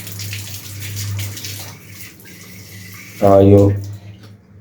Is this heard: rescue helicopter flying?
no